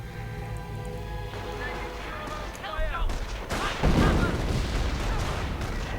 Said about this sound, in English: Nice sector artillery barrage right there